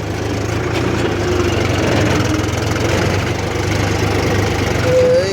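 A tractor engine labours under heavy load while ploughing a wet village field. Loud, close, continuous low chugging throbs steadily throughout with no break.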